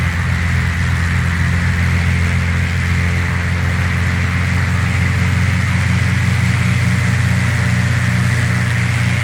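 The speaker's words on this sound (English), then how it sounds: "You can hear the engine working hard there." A loud, steady engine drone from a Cessna 185F climbing in the FSX flight simulator hums continuously with a constant pitch and no pauses, no voices over it.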